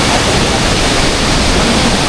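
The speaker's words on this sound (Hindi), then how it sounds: "वाटरफॉल हो रहा है।" A roadside waterfall in Nepal roars as a steady, loud broadband rush of falling water, continuous and unbroken throughout with no voices.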